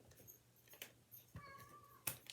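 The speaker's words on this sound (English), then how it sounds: "He loves to meow at me to tell me he needs out, or he needs food" A cat meows a couple of times at moderate distance, short tonal calls separated by quiet room noise and small clicks.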